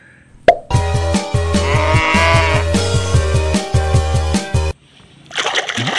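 A toy cow gives a loud, buzzy electronic moo with a pulsing rhythm after a short plop, then cuts off abruptly. A brief clatter follows.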